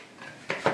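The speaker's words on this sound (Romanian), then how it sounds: "Amestecăm." Pasta salad with cucumbers, tomatoes, olives and parmesan being tossed in a bowl, giving two quick close clinks and scrapes of utensil against dish after a soft rustle, brief and alone.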